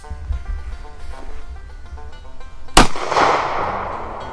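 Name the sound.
22 TCM gun fired at soft body armor plate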